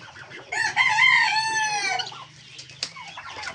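A hen kept in a cage among other chickens gives one loud, drawn-out harmonic call close by, followed by a brief quieter squawk amid faint background rustling.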